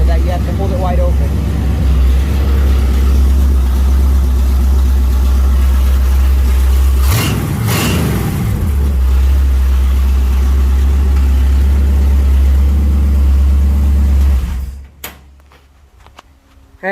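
A car engine running steadily with its carburetor held wide open, a loud, constant low drone with a brief rush of noise partway through, cutting off sharply near the end.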